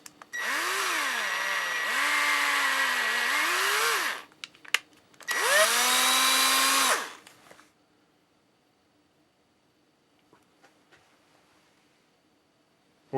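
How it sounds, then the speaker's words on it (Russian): A cordless drill-driver cutting a thread in metal, two loud sustained motor runs with wavering pitch separated by a brief pause, followed by quiet with faint clicks. "И тем же шуруповертом нарезаю резьбу."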